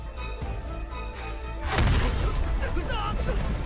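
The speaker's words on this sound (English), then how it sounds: "The explosion was from all the way back down in there." Explosion in an animated show: a sudden loud broadband blast bursts in over a sustained musical tone, then a rumbling, crackling tail with debris-like noise.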